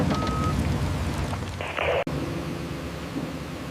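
Steady rain hisses on a surface while a low rumble of thunder rolls through, ending in a brief sharp crack.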